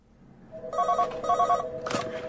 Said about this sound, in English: I have Dr. Ash on the phone. She says it's urgent